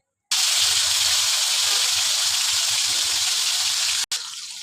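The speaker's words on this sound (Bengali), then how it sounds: "এখন আমি চিকেনটা ভেজে নেব" Spice-marinated chicken frying in hot oil in a frying pan on a stove gives a loud, steady hiss that starts abruptly and runs unbroken, with a brief cut near the end.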